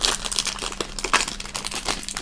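A Meiji biscuit packet wrapper, an Olympics-design bag, being torn open close up, a quick series of sharp plastic crinkles and rustles with no talking.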